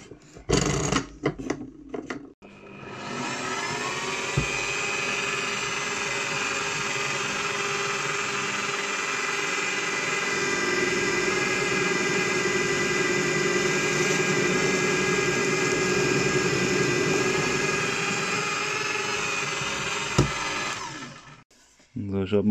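A drill running an HSS cobalt wood bit into wood, a steady high-pitched whine held for nearly twenty seconds, bracketed by brief handling clatter at start and end.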